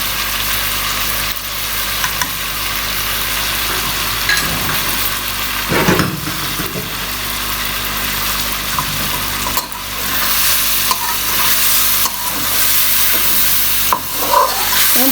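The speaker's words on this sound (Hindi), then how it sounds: "सारे मसालों को डाल के आप अच्छे से मसालों को भून लें, साथ में गोश्त को भी भून लें" Meat and ground spices, including tikka masala and garam masala, sizzle steadily in a hot pan, with occasional scraping from a stirring spoon. The close, continuous frying has no voices over it.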